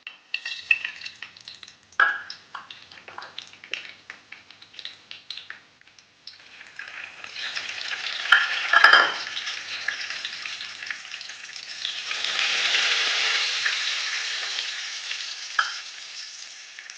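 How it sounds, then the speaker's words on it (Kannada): Mustard seeds hit hot oil for a Mangalore-style chicken curry: a few quiet clinks and crackles, then a steady, loud sizzle with bursts of popping that swells and holds to the end. "ಎಣ್ಣೆ ಬಿಸಿಯಾದ ನಂತರ ಅದಕ್ಕೆ ಸಾಸಿವೆಯನ್ನು ಹಾಕಬೇಕು."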